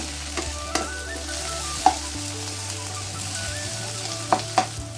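Onion, garlic and ginger sizzle in a hot pan, a steady frying hiss broken by a few sharp clinks and scrapes of a spoon stirring, close and fairly loud.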